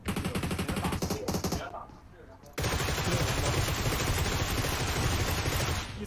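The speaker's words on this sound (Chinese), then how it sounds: "哪一直在打枪？我一直在听到。" A squad-based mobile shooter game produces fast bursts of automatic gunfire, loud and rapid, pausing briefly before resuming as sustained heavy firing. Players talk over it.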